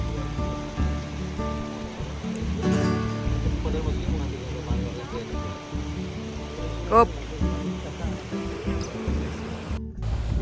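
A mountain river on Gunung Rinjani rushes steadily, a continuous broadband wash of flowing water with occasional voices nearby.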